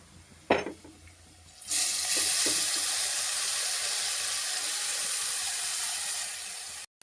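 Mango pieces dropped into frying masala in a pan set off a sudden loud, hissing sizzle that holds steady for several seconds, after a brief clink at the start.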